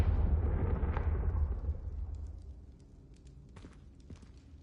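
A Confringo spell explosion in the video game Hogwarts Legacy, a deep booming blast with a rumbling tail that fades over a few seconds, followed by faint scattered debris clicks and pops.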